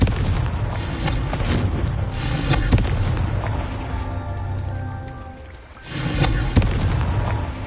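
Confringo fire spell explosions in the video game Hogwarts Legacy, loud rumbling booms with crackling debris in a dense, continuous barrage, dipping briefly before another blast surges back.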